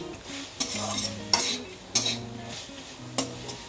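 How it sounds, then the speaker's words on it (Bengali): Sugar being stirred into red amaranth stalk and potato chachchari in a pan, with four distinct spoon scrapes against the pan over a low sizzle, close and clear. "চিনিটাকে ভালো করে মিশিয়ে নিলাম।"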